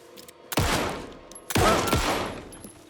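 Gunfire in the horror game Alan Wake 2. Two loud, sharp shots about a second apart are each followed by a long reverberant tail, heard alone.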